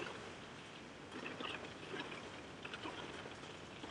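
Heavy rain pours down on a parked car, a steady dense patter on the roof and glass heard from inside the cabin, fairly faint and continuous with no voices.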